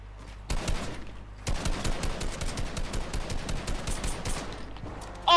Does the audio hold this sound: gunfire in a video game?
yes